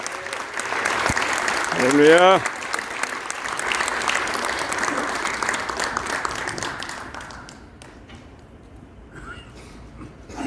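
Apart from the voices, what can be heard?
congregation applause welcoming pastor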